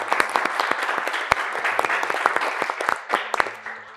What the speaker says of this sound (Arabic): صفقوا الشهاب ورحبوا بيه.